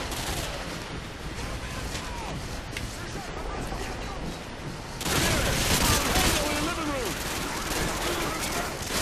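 Dense, continuous gunfire from the Modern Warfare 2 video game, a steady barrage of overlapping shots that grows louder and busier about halfway through, with a player's voice talking over it.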